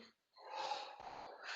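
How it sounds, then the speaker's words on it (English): Heavy, effortful breathing during a kickboxing circuit workout, with knee strikes and punches: loud, rough gasps and snorting exhales close to the mic after a brief pause, continuing for the rest of the moment. "We're breathing."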